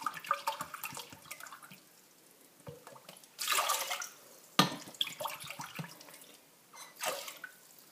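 Water is measured and poured with a dish into a pot of rice being cooked with chicken in a home kitchen, giving soft splashes and trickles in several short bursts with quiet pauses between them.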